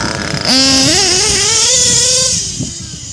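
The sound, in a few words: modded nitro RC truck engine idling and revving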